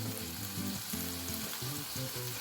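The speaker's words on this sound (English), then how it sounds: "I'm going to mix this very well and let it fry" Masala spices with chili powder fry in a pan, a steady close sizzle with intermittent stirring scrapes and no talk.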